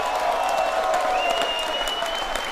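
A comedy club audience at an improv show claps steadily throughout, a dense, sustained wash of applause with faint crowd murmur underneath.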